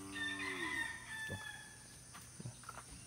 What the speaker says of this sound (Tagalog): Itong manok na to.